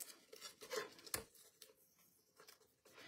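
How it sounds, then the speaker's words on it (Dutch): Adhesive tape peeled carefully off a paper craft project with a small envelope die, giving soft intermittent tearing and crackling, quiet and close with brief pauses. "Voorzichtige tape eraf halen."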